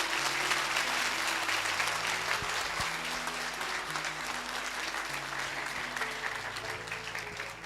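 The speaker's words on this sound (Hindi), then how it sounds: "आइए प्रभु के लिए अच्छी ताली बजाएंगे मिलके।" Sustained, enthusiastic applause from a church congregation during a sermon, many hands clapping together in a full, even wash that fades slightly over several seconds while soft music tones play underneath.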